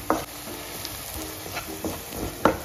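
Masala for egg curry is stirred in a pan over a low flame, giving a soft, steady sizzle broken by a few light scraping strokes of the spoon, with no talking.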